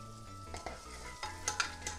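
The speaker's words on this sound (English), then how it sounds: "Hear that sizzle?" Onion sizzles in a hot pan while a plastic spoon stirs it, a steady frying hiss broken by scraping stirs, close up with no talking.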